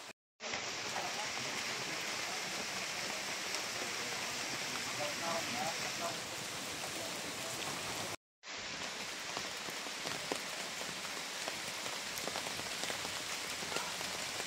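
Steady rain pours down in Bohol, Philippines, a dense even hiss of drops on surfaces, briefly cut off twice, with no voices.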